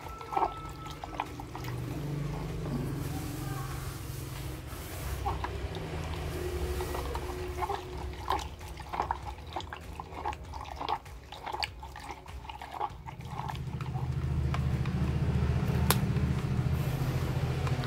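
Carbomer hand sanitizer gel being stirred in a container as it thickens, with soft wet sloshing and scraping strokes repeating irregularly under a low background hum, growing fuller toward the end.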